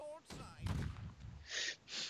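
Cannon fire aboard a big warship in the game Blackwake, a few booming blasts with bright crackling bursts near the end, close and loud, with faint game voices around.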